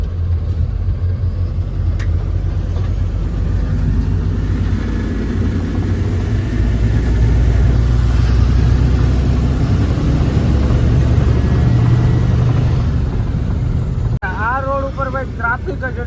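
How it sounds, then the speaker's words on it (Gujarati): Traffic on the Hyderabad ring road, a truck engine rumbling steadily alongside passing vehicles, a continuous low drone with a faint voice briefly at the end. "ટ્રાફિક જ એટલી છે મિત્રો"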